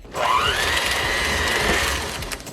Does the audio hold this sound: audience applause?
no